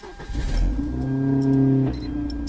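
A cold Hyundai Genesis Coupe 2.0T, tuned to about 700 whp with a LinkECU kit, fires up after a short crank and flares into a smooth, loud, tonal rev before settling toward idle.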